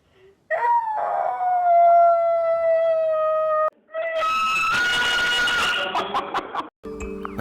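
A person howls in imitation of a wolf or dog, rising into long wavering cries, then breaking into higher yelping howls, close and loud with short pauses between.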